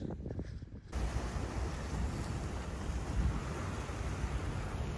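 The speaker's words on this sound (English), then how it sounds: "Look at this boat going out to sea just as we speak right now" Loud wind and rushing water fill the scene at Pornichet, France, a steady roar of sea and engine noise from a boat heading out to sea.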